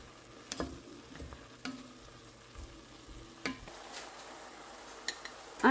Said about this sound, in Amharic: ከሽንኩርቱ ጋር ደግሞ ትንሽ አበስለዋለሁ።